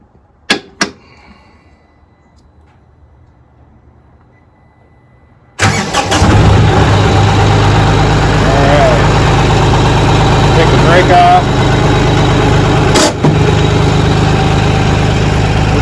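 A tractor engine fitted with a post hole digger attachment cranks, catches and settles into a loud, steady idle after a few sharp knocks and a quiet stretch.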